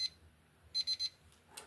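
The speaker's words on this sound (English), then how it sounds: "That's my timer." A timer alarm beeps while resin sets for tissue-paper wall art: a single short beep, then a quick run of three high electronic beeps close to the microphone, with a faint scrape afterward.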